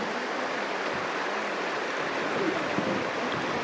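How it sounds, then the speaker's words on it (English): Water spilling over a beaver dam at a fall campsite in Arrowhead Provincial Park, heard as a steady, close, broadband rush that holds an even level throughout, with no voices. "And we can hear the waterfall in this camera."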